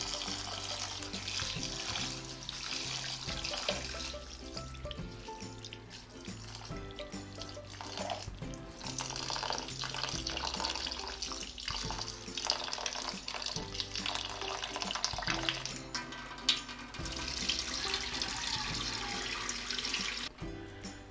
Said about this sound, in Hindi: लीजिए चावल हमारे धुल चुके हैं